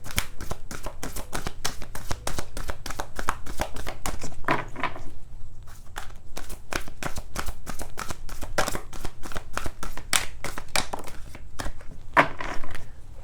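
A tarot deck is shuffled by hand, giving rapid, rhythmic riffling and slapping bursts that repeat nearly nonstop, close and crisp, with no voice over them.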